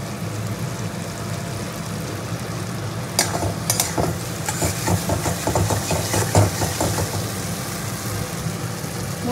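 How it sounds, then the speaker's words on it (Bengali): Water is poured into masala frying for a rohu fish curry, raising a burst of loud crackling sizzle over a constant hiss from the hot pan, close by. "মশলাটা ভালো করে কষা হয়ে গেলে এবার জলটা দিয়ে দেবো।"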